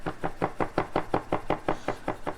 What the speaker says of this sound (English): the reason I'm chopping it is not everyone likes a big piece of caper in their mouth